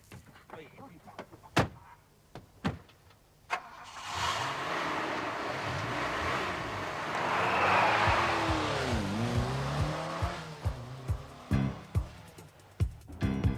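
A car speeds off hard, its engine roaring and revving through a long sustained rise with squeals, framed by door thumps and clunks before and after.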